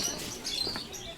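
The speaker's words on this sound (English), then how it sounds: "I can hear some birds" Caged birds chirp in a pet shop inside Vinnytsia Central Market in Ukraine, thin high tweets that come and go over a dull market murmur.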